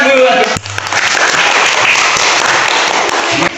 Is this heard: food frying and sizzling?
no